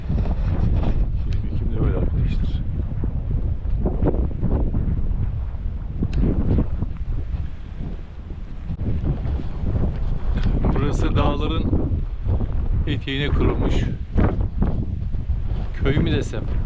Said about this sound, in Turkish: Hava çok soğuk, rüzgarlı.